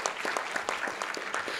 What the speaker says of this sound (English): Let's give a round of applause to Anthony for moderating the first part.